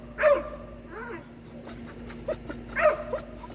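A herding dog barks and yips in several sharp bursts spaced over a few seconds, with softer whimpering sounds between them, close by in a quiet room.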